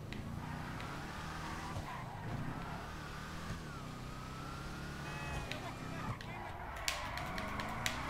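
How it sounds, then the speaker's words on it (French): A Bravado Gauntlet Hellfire muscle car drifts in GTA 5, its engine droning continuously with tyre squeal and skidding throughout, sitting low in the mix and fairly faint. "Je vais vous faire écouter le drift. Écoutez."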